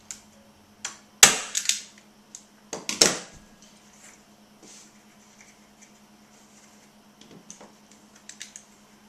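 A staple gun fires staples into fabric stretched over a wooden frame, two loud close snapping bursts with rattling handling, then lighter taps and clicks scattered across a quiet background.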